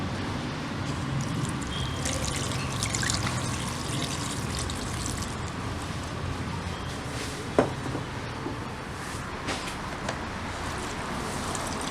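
Water pours steadily from a bottle onto a compressed coco peat block, a continuous trickling gush at close range with a faint knock partway through. No one speaks.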